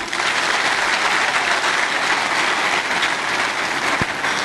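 A large audience claps loudly and continuously in a dense, even roar of applause that holds steady from start to finish, with no talk over it.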